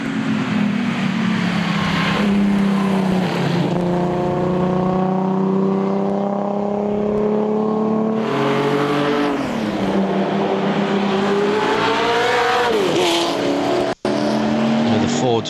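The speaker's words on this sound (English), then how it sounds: "Looks TVR shaped to me, and indeed Emmanuel Morel-Darlot, William Gelly in the Grand Tourer Mark III." A classic TVR Grand Tourer Mark III race car at the Le Mans Classic roars loudly and continuously at close range, its engine note climbing and dropping through gear changes as it passes, with other race cars audible around it.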